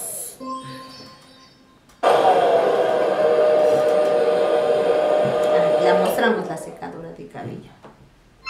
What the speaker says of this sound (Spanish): Alguien se está echando desodorante.